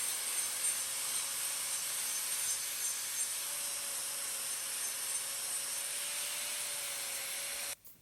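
A rotary hoof-trimming tool grinds steadily at loose horn on a cow's injured claw, a continuous close high whir with a slight pitch drift that cuts off abruptly near the end.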